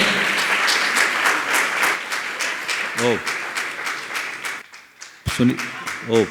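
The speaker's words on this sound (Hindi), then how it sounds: "मैं चाहूंगा ऐसे व्यक्तित्व के लिए जोरदार ताली बजाकर इनका सम्मान करें।" Jain congregation at Gunayatan, Shikharji in Jharkhand applauds loudly to honour guests, dense sustained clapping that thins out, with bursts of speech and a voice breaking through near the end.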